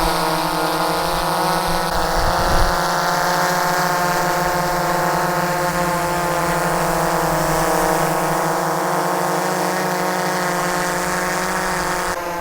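A Powervision PowerEgg drone lifts off from sand, its loud propeller whine holding a steady, close, harmonic drone for the whole stretch, with a brief low thump early on.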